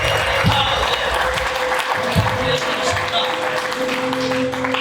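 A church congregation applauds together in a sustained burst of clapping, with a faint steady tone and a little murmuring underneath.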